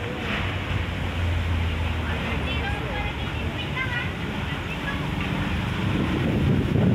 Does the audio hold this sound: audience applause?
no